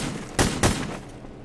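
Gunshots in the first-person shooter The Hidden: two loud, close shots in quick succession over low background game noise.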